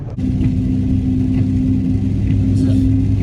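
Duramax diesel pickup truck with an emissions fault driving through a tunnel: a loud, steady low engine drone and road rumble heard from inside the cab, with someone talking over it.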